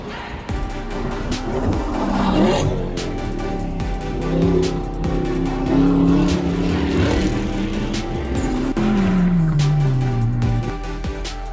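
Several sports car engines, including Camaros, Corvettes and Porsches, roar and rev in sustained waves on a Winnipeg racetrack, pitches sweeping up and down as cars accelerate and pass, loud and continuous throughout.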